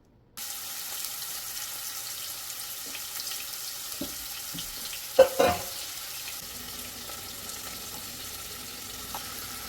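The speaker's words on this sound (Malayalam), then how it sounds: "ആ കൊഞ്ചാണ് നമ്മളിനി ഈ എണ്ണയിലിട്ട് വറുത്തെടുക്കാൻ പോകുന്നത്" Marinated prawns half-fry in hot oil with a faint, steady crackle, punctuated by a couple of sharp clatters as pieces are placed or turned, with no voices.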